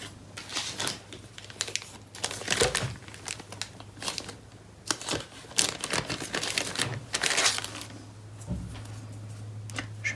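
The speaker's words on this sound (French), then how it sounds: "Je reprends du ruban double face." Double-sided tape being handled while a bookmark is made, with close crinkling, peeling and tearing noises that come in irregular bursts over a low steady hum.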